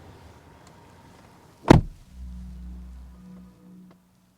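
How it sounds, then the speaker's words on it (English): One solid thunk as the door of a 2024 Mercedes-AMG EQE 53 SUV shuts, heard at night from inside the cabin, followed by a low hum and a soft electronic chime in an otherwise quiet interior. "So let's close the door"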